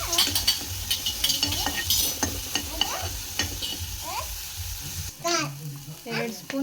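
Green chili paste stirred and frying in a pan, with a steady sizzle and a spoon scraping and clinking against the pan in an uneven rhythm, close by, fading briefly near the end as a voice speaks.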